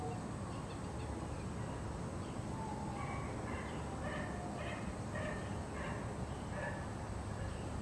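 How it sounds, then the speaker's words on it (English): Dogs barking outdoors during a test of a Whelen WPS 2810 warning siren in Columbus, Georgia, a series of faint, distant barks and yips repeating over a constant wash of background noise. "Some dogs aren't happy."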